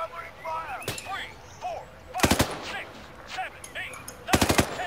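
Bursts of machine gun fire ring out in a combat video game, sharp loud volleys at about one, two and four and a half seconds, with game voices and effects between them.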